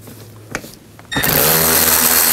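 A power tool with a T20 socket backs out screws while a radiator cooling fan is removed from a 2009-17 Chevy Traverse; a couple of faint clicks, then a loud, steady high-pitched whir starts abruptly and runs to the end.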